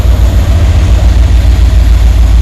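A Dodge Ram 1500 van engine idles after a restart, having been flooded a little; it gives a loud, steady, low rumble throughout with no talk.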